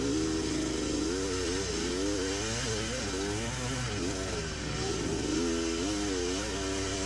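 Vintage motocross racer with an 81 KX motor in an 82 KDX frame, racing at Rocket Raceway: a loud, continuous two-stroke engine note rises and falls steadily with rapid revving as it works through the gears.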